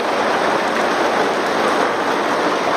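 Steady rain drumming on a tarp rigged as a makeshift roof and rain catch outside a church building, a dense, even hiss holding at constant loudness with no voices.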